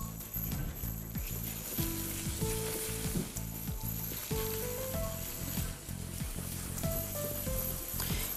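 Butter and flour cook slowly in a pan into a brown roux for a Japanese chicken curry sauce, with a continuous close sizzle and faint stirring under background hum.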